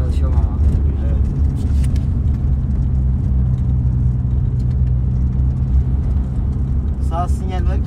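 A car engine runs steadily while a learner drives on city streets, a constant low rumble with faint whirring and passing road noise, and people talk over it throughout.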